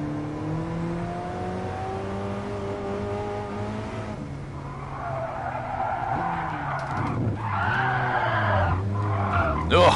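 A race car in Gran Turismo Sport skids under the e-brake: a droning engine note gives way to loud, wavering tire squeal that swells and rises in pitch near the end, with no talking.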